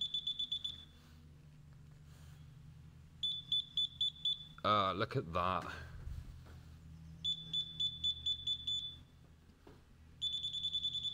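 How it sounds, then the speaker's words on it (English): Repeated electronic beeping from a moisture meter probe pushed into a wet oriental rug, in short rapid bursts, several clusters separated by pauses, with a brief burst of nearby speech in the middle. "We've got a little beep when I push right in."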